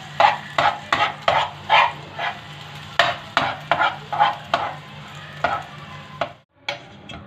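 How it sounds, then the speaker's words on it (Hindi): An egg fries in a pan for restaurant-style egg fried rice while a spoon stirs and breaks it into small pieces, giving a steady rhythm of scraping strokes over a low sizzle, close and fairly loud, with no talking. "फ्राई करते हुए चम्मच को हिलाते जाएं।"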